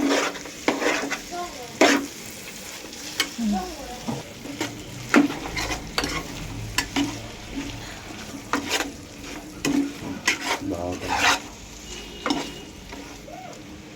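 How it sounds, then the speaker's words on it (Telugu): Chicken frying in hot oil with spices in a pan for a Telangana-style curry, a steady sizzle broken by repeated scraping and clattering strokes of a spoon stirring close up throughout. "ఇప్పుడు నెక్స్ట్ చికెన్ వేసుకోవాలి ఫ్రెండ్స్. చికెన్ కలుపుకుంటూ ఉండాలి."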